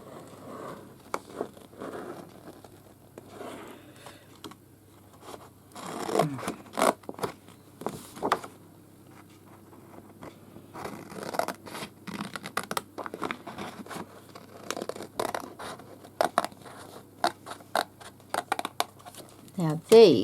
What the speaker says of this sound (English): So what I'm going to do is cut it out